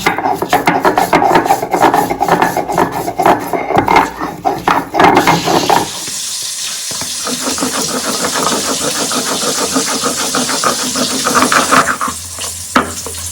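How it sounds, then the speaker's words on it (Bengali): Mustard seeds ground with salt and turmeric on a grinding stone, rhythmic rasping strokes back and forth, loud and close, settling into a steadier gritty rubbing in the second half. "একটু লবণ দিয়ে তারপরে মশলাটা বেটে নেব"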